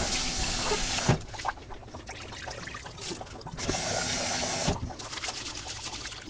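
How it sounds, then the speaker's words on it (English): Water runs from a tap into a bowl of rice during rinsing, a steady close gush that stops and restarts, with handling clunks between pours. "I work the rice and then I add the water"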